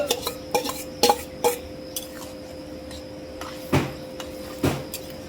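Egg curry masala with cumin, chili and potato is stirred and sauteed in a pan: repeated spoon knocks and scrapes against metal over a faint, low sizzle, close up with no talking.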